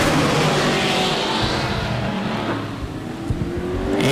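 A super late model race car roars past during qualifying at Auburndale, loud and close, with a sustained engine drone and pitch shifting as it passes.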